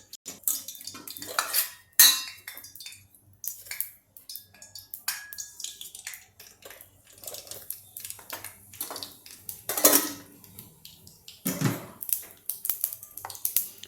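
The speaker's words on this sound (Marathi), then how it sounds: "आता मी यामध्ये प्रथम मोहरी टाकते" Mustard seeds go into a pan of hot oil for tempering a savory dal prasad, with clinking of a metal spoon against the pot and scattered crackling pops, close and fairly quiet, with no talking.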